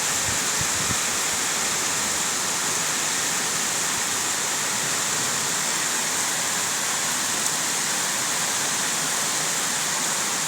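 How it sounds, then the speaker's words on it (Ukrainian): Heavy downpour drums steadily on rooftops, a dense, unbroken roar of rain close by that holds at a constant level throughout, with no voices over it. "На дахах аж розпиляється е, дощ, шмете так"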